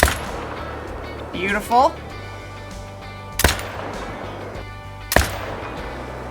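Two loud, sharp .308 rifle shots crack out a couple of seconds apart in the hunting video game Call of the Wild, each with a brief echoing tail, while someone talks and a bird call sounds briefly in between.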